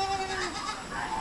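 A farm goat bleats once, a close, wavering nasal cry that glides downward and trails off against outdoor ambience.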